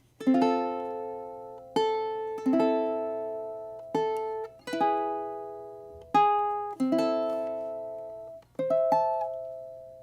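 Slow, deliberate ukulele strums, roughly eight chords each left to ring and decay before the next, clear and close with no voices.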